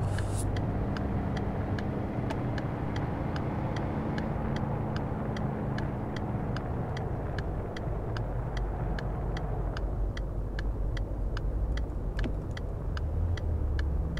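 Steady car engine drone while driving in the City Car Driving game, a constant road hum with a regular ticking, no one speaking over it.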